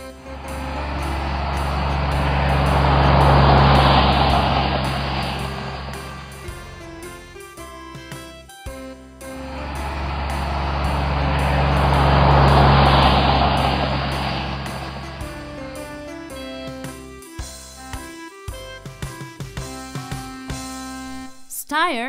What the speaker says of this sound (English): Tractor with cultivator.